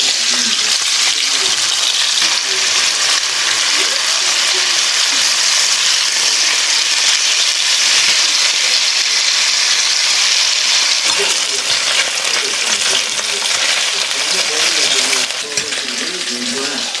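Beef searing in hot oil in a frying pan makes a loud, steady, hissing sizzle that runs continuously without pause.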